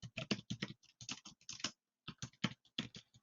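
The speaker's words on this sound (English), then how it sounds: "as a vendor, I'm typing in a target address" Rapid typing on a computer keyboard while entering an email address and message, with crisp close key clicks in quick irregular bursts and a brief pause midway, no voices.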